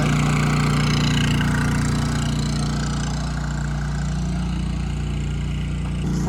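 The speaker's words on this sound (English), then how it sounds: "I'm going to turn around and let you hear just the generator." A van's generator runs steadily and loudly nearby, a constant engine drone with no change in pitch, and no one speaks.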